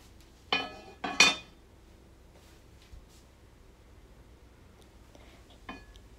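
Chopped black olives tipped into a pot of Portuguese-style octopus rice, then a lid set on top: two sharp metallic clinks close together, a faint tap, and one more light clink later in a quiet kitchen.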